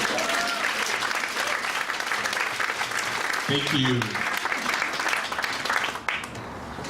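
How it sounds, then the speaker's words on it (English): A crowd gives a speaker a sustained round of applause, a steady wash of many hands clapping, while someone briefly speaks over it before the clapping thins out. "let's give him a round of applause for this"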